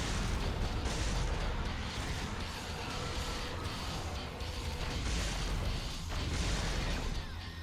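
Grenade launcher blasts from the Devil May Cry video game, a dense, continuous barrage of loud booming explosions and crashing impacts filling the whole stretch without pause.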